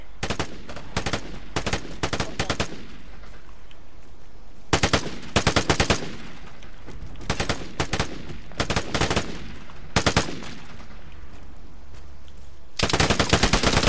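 Rapid bursts of automatic weapon fire from the online shooter game Vigor, loud and close, coming in repeated short volleys with gaps between them.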